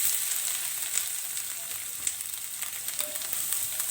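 Grated coconut and raisins roasting in a pan for oats laddu, a steady soft sizzle with faint crackles and occasional scraping stirs, fairly quiet and close.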